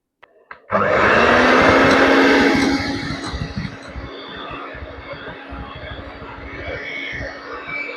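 An electric beater beating sugar for a walnut cake batter switches on with a loud, steady whir that settles into a lower, rougher drone as the blades churn the mixture close up.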